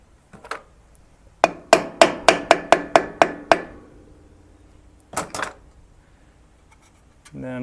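Metal tapping as a key is driven into the notch of a lawn mower flywheel: a quick run of about eight sharp, ringing taps, then a couple more after a pause, close and clear.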